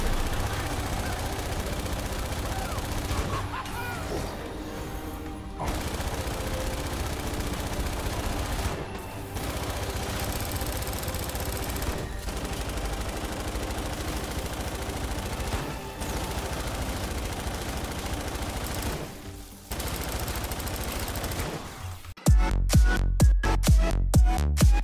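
Military light machine gun fire in Fortnite: Save the World, a dense continuous run of shots under game music, then a sharp rhythmic burst of loud, closely spaced rounds near the end.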